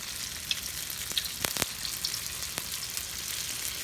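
Samosas frying in hot oil, a steady close sizzle and hiss with a few small pops and crackles throughout.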